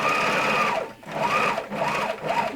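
A sewing machine stitches a scrubs top in two running bursts with a brief pause between, a close, loud, whirring mechanical hum.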